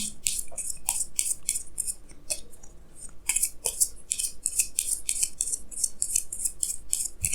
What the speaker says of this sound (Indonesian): saya akan tarik lagi 2 kartu tambahan